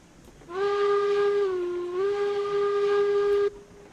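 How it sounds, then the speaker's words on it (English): Deep, throaty steam locomotive whistle in the train game RailRoads Online, one long sustained blast of about three seconds with a slight pitch dip midway, loud and close, with no talking. "this thing does have a very nice, deep, throaty whistle"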